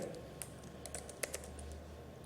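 Typing on a computer keyboard, a run of quick, uneven keystrokes with a few sharper clicks, close and fairly quiet, with no talking.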